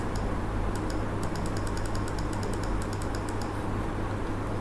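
Computer mouse clicking rapidly while working in SolidWorks software, a run of light, crisp clicks over a steady low hum, close up and without speech.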